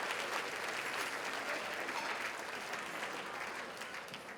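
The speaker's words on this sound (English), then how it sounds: "Thank you guys, clap for yourselves." Audience members at a Mother's Day charity luncheon clap in a sustained burst of applause, a dense wash of many hands that holds steady and then begins to taper off near the end.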